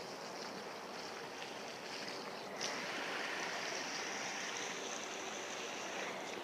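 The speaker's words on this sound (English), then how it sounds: "make sure you give it a good watering" A steady, soft hiss of water spraying onto flowers in a container garden runs unbroken from start to end, with a slight rise partway through.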